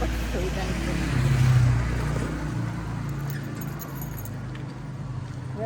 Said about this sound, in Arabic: ودي طبعا المفاتيح عماله تخبط في وداني